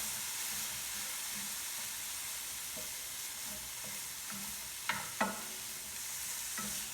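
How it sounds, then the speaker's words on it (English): Cauliflower taco filling sizzles steadily in a hot pan, with a constant frying hiss broken by a few sharp scrapes and clacks of stirring, close up and without talking. "so I'm just going to put that in with that nice sizzle, and then just move that around"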